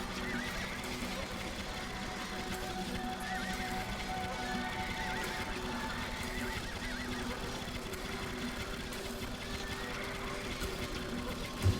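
Horses in Age of Empires 2, recreating the Battle of Manzikert, neigh and whinny repeatedly over a steady bed of clip-clopping hooves and battle din, loud and continuous throughout.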